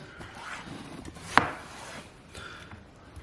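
Knife slicing through a watermelon on a cutting board: one sharp crisp cut with a brief thud against soft rubbing and handling noise, fairly quiet and up close.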